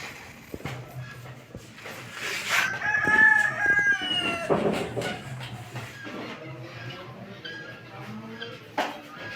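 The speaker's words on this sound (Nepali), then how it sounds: "यहाँ माउ कुखुरा छ" Hens cluck and a rooster crows in a Nepali commercial poultry coop with brooding hens, a loud crow rising over steady clucking, followed by scattered further calls and cackles.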